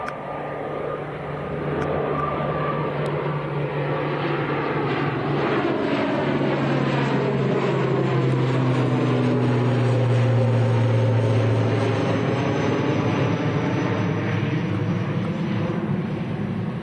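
An airplane at Manchester Airport makes a loud, continuous engine roar close by, its whining tones slowly bending in pitch as it passes, with no talking.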